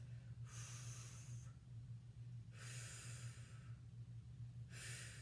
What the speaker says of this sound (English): And breathing. Exhale with that effort.